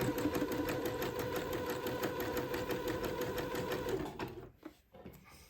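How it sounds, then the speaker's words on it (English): A sewing machine running steadily in zigzag stitch along a raw fabric edge joined to entredeux on a baby daydress, a continuous close, even mechanical whir that stops abruptly near the end. "let me set my machine to a zigzag. And just follow the edge of the entree and zigzag this raw edge together."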